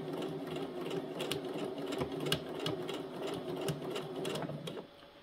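A sewing machine stitches gathered fabric 1 cm from the edge in a steady, fast mechanical run for about five seconds, then stops.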